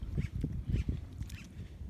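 Water birds honk and call at the Barra de Santiago estuary in Ahuachapán, El Salvador, a few quick, fairly faint calls heard from a distance with no talking.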